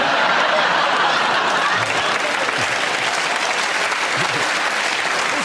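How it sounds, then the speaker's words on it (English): A studio audience applauds a joke on a panel game show, a dense, steady round of clapping that fills the whole stretch at close, even loudness, with a few faint chuckles mixed in. "You made a joke and you got a round of applause."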